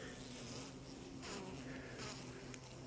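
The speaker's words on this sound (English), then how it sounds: "those bees are clustered right underneath here, right in the bottom" A dense, continuous buzzing of many honey bees clustered in the bottom of a winter hive, a steady droning hum with no pauses, heard close up.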